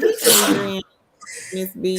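A single loud, close sneeze at the start, followed by a short silence and then people talking.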